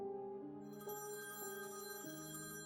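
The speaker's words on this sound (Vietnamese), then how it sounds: "Chuông điện thoại vang lên, đánh thức Ashley đang ngủ." A telephone rings with a repeating electronic trill of bright, tonal pulses, steady and fairly clear, with no voices.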